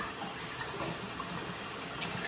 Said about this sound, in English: Clean the blade in the hot water.